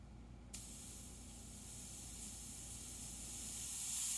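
A fine, steady hiss of an airbrush spraying paint onto frisket on a Mustang's hood starts abruptly after a short pause and continues evenly, growing slightly louder toward the end.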